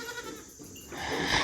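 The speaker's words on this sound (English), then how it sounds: "Freaking goats." Goats bleating in a farm pen, a nearby nasal bleat rising at the end after a brief quieter stretch of rustling, heard alone without talk.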